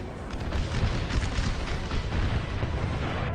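Howitzer artillery fire in a Civil War strategy game, a dense, continuous rumble of distant booms and bursts rolling together for the whole stretch, steady and fairly loud with no talk.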